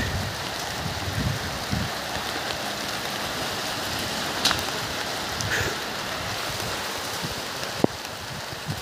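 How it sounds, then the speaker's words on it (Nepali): Heavy rain falling outdoors on farmland, a steady, moderate hiss of drops with occasional faint knocks and rustles. "पानी त हेर्दा हेर्दै परिगयो त"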